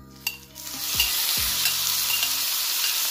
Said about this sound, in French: il ne reste plus qu'à mettre la viande dans la poêle